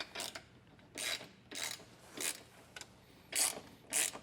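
A hand ratchet snugs up the bracket hardware while a Romik RB2-T running board is installed, giving about eight short, quiet clicking bursts in a steady back-and-forth rhythm, with no voices.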